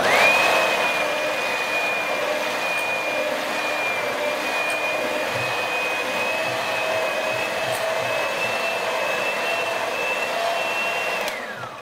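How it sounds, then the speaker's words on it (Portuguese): An electric mixer whirs steadily at high speed as it beats egg whites for a cheese soufflé, a constant loud motor whine with no talking, tapering off just at the end. "E vamos começar a bater as claras."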